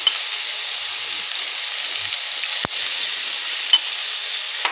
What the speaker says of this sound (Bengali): প্রথমে বন্ধুরা টমেটো আর পেঁয়াজ কুচিটা দিয়ে দিলাম।